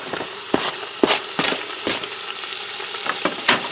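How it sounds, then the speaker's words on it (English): Diced onion sizzles against a browned bottom round roast in a Farberware 8 qt pressure cooker, a close, crackling fry broken by repeated scraping stirs, with no voices. "I'm going to add in that onion I diced up while it was sauteing"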